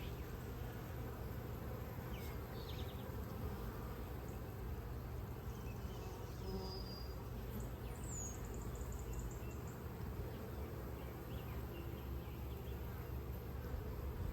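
Bees buzzing in front of beehives on a sunny day, a continuous, faint, even drone of many insects with a brief bird call partway through.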